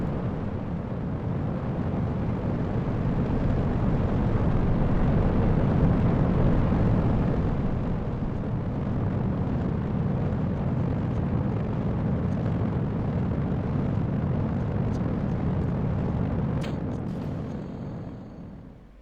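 A rocket launch in a space-flight game, a loud sustained roar with deep rumbling that holds steady for most of the stretch before fading away at the end, with no talking over it.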